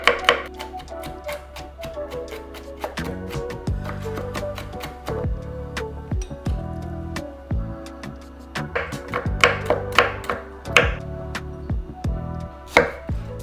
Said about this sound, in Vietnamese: mình sẽ băm nhỏ hành, tỏi và gừng